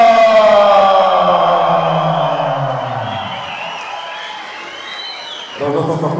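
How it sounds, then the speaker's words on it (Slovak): Crowd in the stands at an MMA fight night roars in ovation, a loud sustained wash of cheering and whistles that slowly fades, then swells again near the end. "Počujeme, že aj z tribún sú veľké ovácie kvôli tomu."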